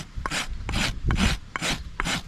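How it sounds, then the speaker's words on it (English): A farrier works a rasp across a horse's hoof in five even, rhythmic strokes, each a close, harsh scraping rasp with brief gaps between them, heard alone without talk. "So when you're rasping, you want to be really careful."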